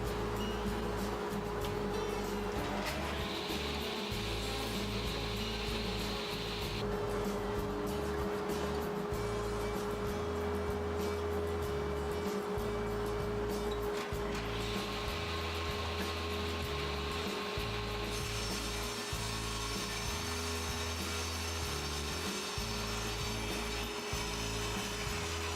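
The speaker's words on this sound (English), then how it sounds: "I'm dropping the material into the blade and cutting just up to the line I drew on the table saw fence" A table saw hums steadily as walnut stock for mitered flag display pieces is lowered into the blade, with a loud continuous whine and periodic rising cutting tones over a constant motor drone.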